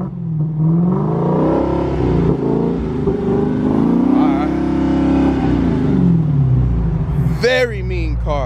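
A 2020 Dodge Challenger Hellcat Redeye's engine, a loud, close, sustained rumble rising and falling in pitch as the throttle is worked, with people talking over it and a sharp whining surge near the end.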